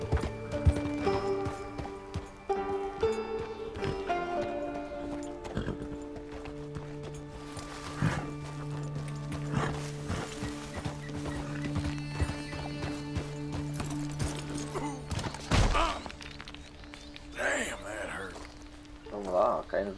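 Horse hooves clip-clop in Red Dead Redemption 2, with irregular thudding steps, a neigh, and game sounds layered over someone talking throughout.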